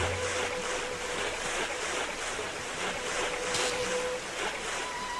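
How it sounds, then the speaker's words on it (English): A waterfall in the video game Xenoblade Chronicles X roars as a steady, broad rush of falling water, unbroken and moderately loud with a faint tone threading through the game's ambience. "Oh boy, waterfall."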